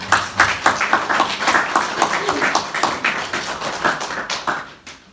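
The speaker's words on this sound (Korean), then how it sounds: "다시 한번 우리 예수님 부활하심을 축하하면서 박수로 주님 앞에 나아가겠습니다." A church congregation claps together in a steady rhythmic beat to celebrate Easter, filling the room with loud, even hand claps that fade slightly at the close.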